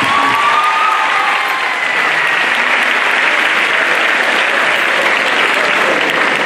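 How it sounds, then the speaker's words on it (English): A dense, loud burst of applause from an audience at a university entrepreneurship event, sustained clapping filling the whole stretch with faint crowd murmur underneath. "Can we give her a round?"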